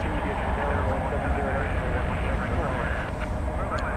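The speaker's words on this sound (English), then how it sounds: "American Flight 364 to San Jose, a 737-800, is off and running." An American Airlines Boeing 737-800 taking off at night at DFW, a loud continuous broadband engine roar close by, with a voice talking over it.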